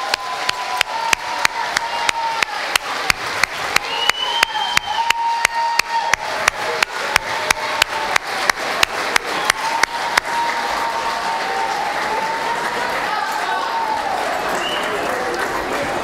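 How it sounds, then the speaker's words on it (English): A school concert audience applauds middle-school bands at a spring concert, starting as rhythmic unison clapping in sharp, regular beats for about ten seconds, then dissolving into a steady wash of applause with cheering and voices. "Let's have one more round of applause for our TCMS bands."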